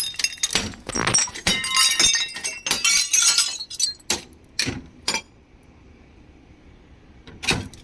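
A car window is smashed, glass cracking and shattering in repeated crunching bursts with tinkling fragments, loud and close, the strikes growing sparser toward the end.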